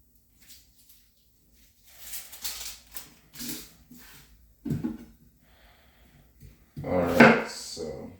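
A knife cutting onions and peppers into quarters on a board, a few scattered close chops and knocks with pauses between, ending in a louder clattering handling noise.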